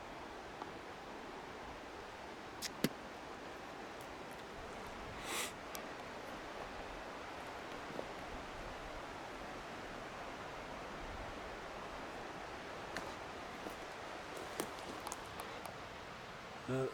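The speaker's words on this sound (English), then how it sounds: "A little bit hard to hear with the river." River flowing through woods, a steady, faint broadband rush of water with occasional small clicks and rustles nearby.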